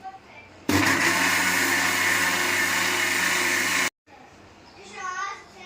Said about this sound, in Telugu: మీడియంగా మనం ఎలా జ్యూస్ పట్టుకొని తాగుతామో అలాగా వాటర్ పోసుకొని మిక్సీ పట్టుకోవాలి